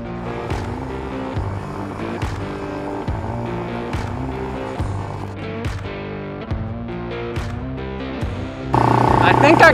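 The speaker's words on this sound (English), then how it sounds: "It'll start spewing fertilizer." An ATV with a fertilizer spreader runs with a steady, rhythmic engine thump, then a sudden loud, hissing rush breaks in near the end as the spreader gate opens and fertilizer starts flying.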